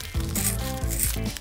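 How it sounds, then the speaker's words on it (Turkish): Scissors cut a strip from a clear plastic folder, each close crunching snip rasping through the stiff plastic, two main cuts in a rhythmic sequence with no voices. "Makasla bir şerit kes."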